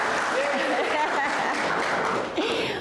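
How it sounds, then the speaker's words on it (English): A seated audience at a talk claps warmly and steadily for the speaker's husband, a dense run of hand claps with a few voices and chuckles mixed in. "Clap for the hubby."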